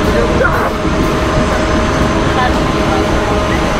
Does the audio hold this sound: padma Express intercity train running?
yes